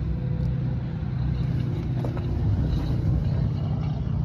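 A used 2020 New Holland C327 tracked compact skid steer loader on rubber tracks idles with a steady low rumble, heard fairly quietly with faint wind noise.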